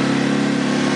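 A 4x4 quad bike engine revs close up, a loud, steady mid-pitched drone held for about a second.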